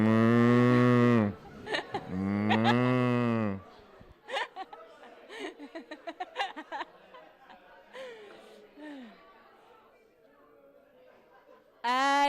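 An audience imitates a wind-powered dairy farm with voices: two long, loud, sustained moos, then a scatter of shorter calls, whooshes and chattering laughter fading away, and a final moo bursting in at the end.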